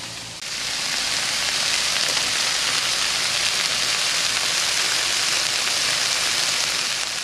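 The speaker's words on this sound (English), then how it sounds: "the goal is to actually char the corn while it's cooking on high heat" Corn kernels for Mexican street corn char in a pan over high heat, a loud, steady, hissing sizzle that starts abruptly and holds unbroken with no voices.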